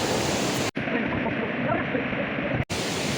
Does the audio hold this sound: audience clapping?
no